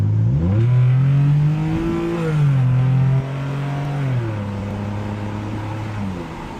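A 2009 Ford Escape with a muffler delete revs up, its loud, raspy exhaust note climbing in pitch, holding, then dropping and settling into a lower steady drone, close to the tailpipe with no talk.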